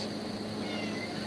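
A pet cat named Meow Meow meows at close range against a steady background hum, a single short vocalization with no talking over it.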